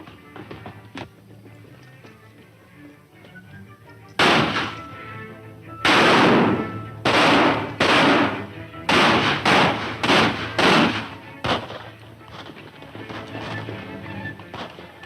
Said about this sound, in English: More shots.